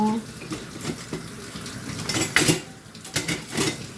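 Dishes, pots and cutlery are washed at a sink, with clinking metal and scraping utensils over running water in uneven bursts and a voice heard now and then.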